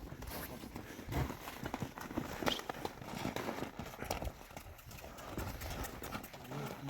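A two-year-old Kyrgyz horse in Aksy district runs, its hoofbeats drumming in a quick, uneven clip-clop at moderate distance, with faint voices now and then.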